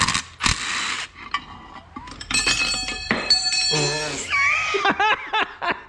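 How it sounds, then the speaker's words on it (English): A bolt is removed from a Volkswagen 020 transmission during teardown, with ratchet clicks, metallic clinks and tool handling, close by and uneven, while people laugh nearby. "Take this bolt out."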